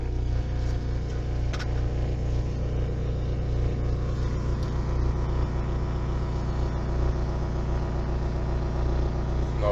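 A 30 hertz bass tone cranked up on a car audio system, a steady, deep, loud droning rumble that holds unchanged throughout.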